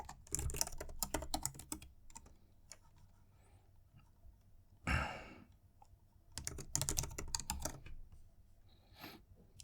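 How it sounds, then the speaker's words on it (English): A computer keyboard being typed on while an email address is entered, with two quick bursts of close, crisp key clicks separated by a quiet pause and a single breathy sigh, with a few scattered taps near the end. "So here you just type your email address."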